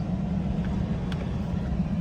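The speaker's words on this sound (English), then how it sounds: "I'm gonna drive right down in there and find us a spot in the pines." A pickup truck rolls slowly into a campsite among pine trees, its low engine rumble and tyre noise steady and fairly close for a couple of seconds.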